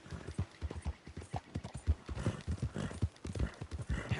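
Hoofbeats from a horse being ridden in Red Dead Redemption 2 form a close, clear clip-clop in an even, repeating gait that carries on throughout.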